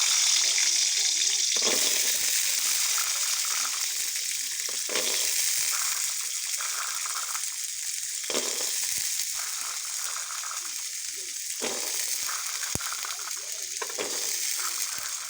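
Small pieces of eggplant frying in a pan after green chillies, a continuous close sizzle broken every few seconds by the rustle and scrape of stirring, with no one talking.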